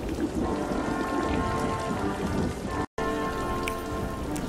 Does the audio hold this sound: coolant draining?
no